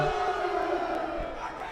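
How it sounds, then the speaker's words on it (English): A volleyball crowd in a school gym booing the officials at a Robbinsville varsity match, a loud, sustained wall of voices with a droning, howling tone, continuous and near throughout. "They're booing the officials out of the building."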